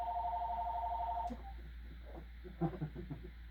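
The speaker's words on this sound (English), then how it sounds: "Is this thing gonna quit ringing?" A telephone rings indoors with a steady electronic tone for just over a second, then cuts off, leaving faint room sounds and soft knocks.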